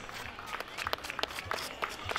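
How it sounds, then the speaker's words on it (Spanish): Scattered, fairly faint audience applause for women performers at a municipal cultural event in General Levalle, loose irregular claps with a little crowd murmur underneath. "Fuerte aplauso para ellas,"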